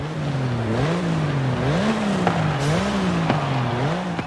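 Porsche 911 GT3 engine driven stock in Forza Horizon 5, loud and continuous, with the pitch rising and falling through repeated gear changes and a few sharp ticks on the shifts.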